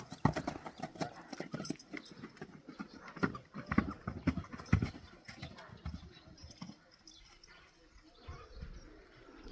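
Breeding stallions on a Kyrgyz farm clip-clop steadily on hard ground, hooves striking in an irregular close rhythm with faint birds in the background.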